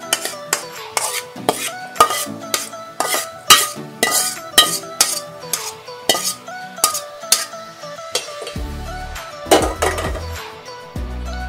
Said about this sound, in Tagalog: Ililipat natin sa lalagyan.